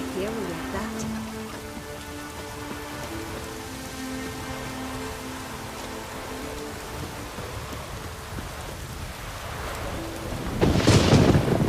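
Thunderstorm with steady rain in the video game The Witcher 3, a continuous wash of rainfall under a musical score, with a louder burst of thunder or heavy rain near the end.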